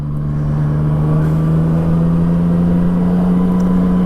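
A Yamaha MT-09 motorcycle engine drones steadily while riding, a loud close continuous hum holding an even tone at cruising speed with wind noise underneath.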